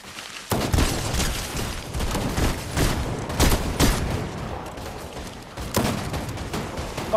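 Rapid bursts of gunfire from a weapon in the video game Fortnite, loud and dense, with repeated volleys and booming shots layered over a busy battle mix.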